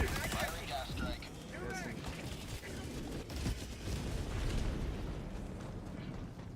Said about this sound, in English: Firing gas strike.